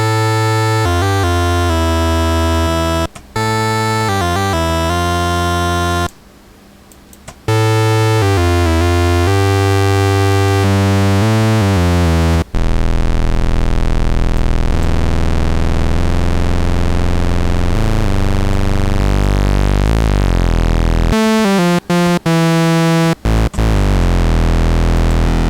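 A Cherry Audio Surrealistic MG-1 software synthesizer plays loud, buzzy sustained tones rich in harmonics, shifting pitch between held notes, with a short drop-out, a long noisy sweeping passage midway and choppy quick retriggered notes near the end.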